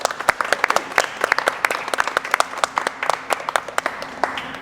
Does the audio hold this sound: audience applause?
yes